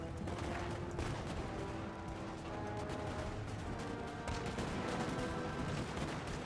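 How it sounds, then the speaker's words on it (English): Musket volleys in Napoleon: Total War crackle continuously from a massed battle line, a dense, steady rattle of many distant shots blended with battlefield din, moderately loud throughout. "They're firing at us."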